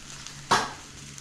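A single short hiss of hot cooking oil in a pan, a brief burst of sizzle that flares up and fades within a fraction of a second, heard alone in a quiet kitchen.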